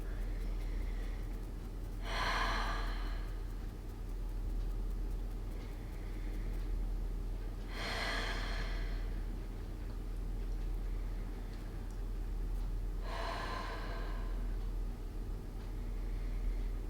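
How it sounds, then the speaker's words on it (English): Deep breathing during a Pilates lower-back exercise: three slow, soft breaths spaced several seconds apart over a quiet background hum. "Good, deep breaths there."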